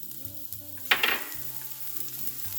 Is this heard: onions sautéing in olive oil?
yes